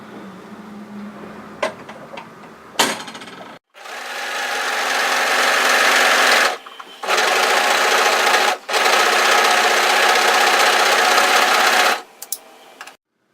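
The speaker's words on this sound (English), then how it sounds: "we want to overlock here from the lower part of the armhole, right side up, to the same place on the other side" An overlocker serging the edges of a hoodie front piece, running from armhole to armhole; loud, steady whirring bursts of stitching, stopping briefly twice, with small clicks and handling before and after and no talk.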